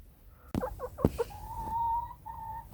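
Chickens in a snowy coop cluck close by, a quick run of short rising calls followed by a long, drawn-out squawk that trails off and briefly returns.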